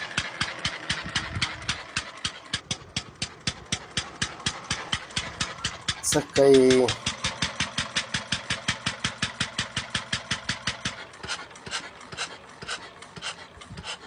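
An antique Benz Motorwagen engine chugs in a steady, even beat of sharp pulses close by, with a brief voice breaking in midway before the rhythm loosens and slows near the end.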